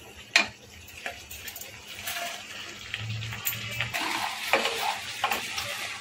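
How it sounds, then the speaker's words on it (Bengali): A spoon stirs steamed egg chilli in a pan, with soft scraping, a few sharp clinks against the metal and a low sizzle underneath, all fairly quiet and close. "একটু করে নেড়ে নেবো, আর একটু করে দেবো।"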